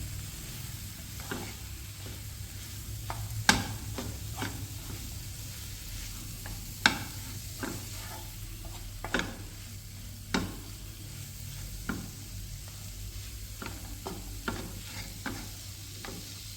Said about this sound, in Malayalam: നമ്മുടെ മുള്ളങ്കി ഇട്ട് കൊടുക്കാം നല്ലോണം ഇളക്കി യോജിപ്പിക്കാം